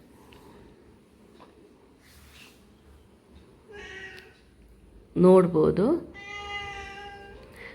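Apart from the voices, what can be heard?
domestic cat meowing for food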